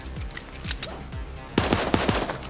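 Rapid automatic gunfire from the top-down battle royale game Super Animal Royale, a fast, loud burst of repeated shots stacked over background game sounds, with no talking.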